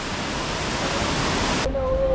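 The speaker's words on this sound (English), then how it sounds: "What a waterfall there." Steady broadband roar of a waterfall in Pynursla, constant and loud throughout, with a faint tone entering near the end.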